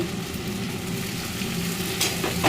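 Onions fried to a deep red, now joined by ground spice paste, sizzling steadily in a hot pan with a few brief stirring scrapes near the end, close and continuous without talk.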